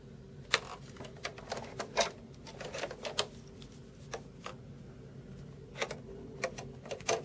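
Screws with washers being driven into a PlayStation 3 casing during reassembly, heard as a scatter of small, close metallic clicks and ticks at an uneven rhythm over a faint background hum.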